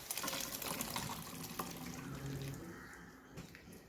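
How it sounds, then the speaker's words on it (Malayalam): Cooked chickpeas in their liquid pour into a masala in a pan, a soft continuous splashing and gurgling that is fairly faint and close, heard alone. "അപ്പോൾ നമ്മൾ ഈ വേവിച്ച് വെച്ചിരിക്കുന്ന കടല ചാറോടുകൂടി തന്നെ ഇതിലേക്ക് ഒഴിച്ചു കൊടുക്കാം."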